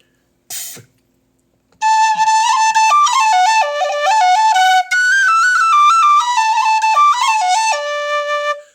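A bright, high soprano D tin whistle (Busker model) plays a lively melody of quick stepping notes after a brief click at the start, loud and close.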